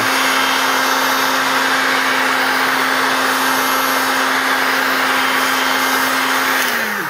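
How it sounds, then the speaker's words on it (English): A hot air gun heats plastic for vacuum forming, a loud, steady, close blowing drone that holds even and then winds down at the very end. "heat it up with my hot air gun with my right"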